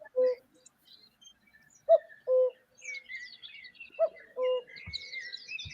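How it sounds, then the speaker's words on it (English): A cuckoo bird calls in repeated two-note hoots spaced a couple of seconds apart, clear and moderately near, with faint chirps from other birds between the calls. "There's that little bird that make that cuckoo sound"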